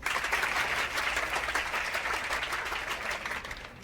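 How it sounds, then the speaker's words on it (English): Crowd applause in a video game plays as a steady, dense wash of clapping that holds for a few seconds at moderate loudness, with no talk over it. "A round of applause, everyone."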